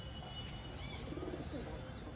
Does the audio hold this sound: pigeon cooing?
yes